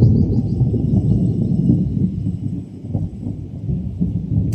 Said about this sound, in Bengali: মেঘ ডাকছে, খুব জোর বৃষ্টি আসছে